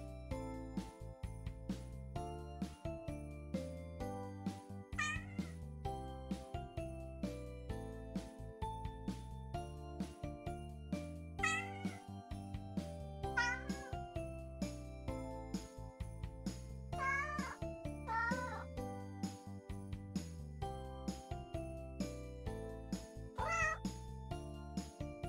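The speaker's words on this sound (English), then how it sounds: "Some of these cats are just silly." Cats meow in short, high, bending calls at scattered moments over a steady, tinkling musical backing, fairly faint.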